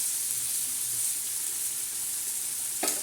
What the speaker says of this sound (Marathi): आता परत एकदा आपण हलवून घेणार आहे, कारण आपण त्याच्यामध्ये मीठ टाकलेलं आहे.